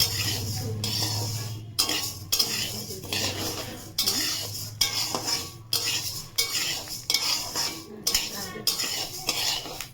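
Moong dal popping and frying in a pan while being stirred, with repeated rhythmic scrapes and clinks of a metal spatula over a low, steady sizzle, heard up close.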